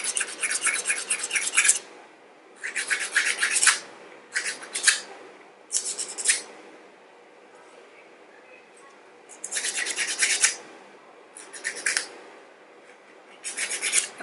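Repeated scratchy rasping of a nail file shaping fingernails square, coming in short bursts of quick back-and-forth strokes with quiet pauses between, close up and fairly loud.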